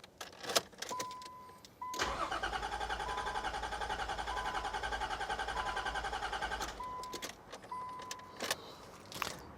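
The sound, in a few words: Nissan Pathfinder engine cranking, repeated start attempts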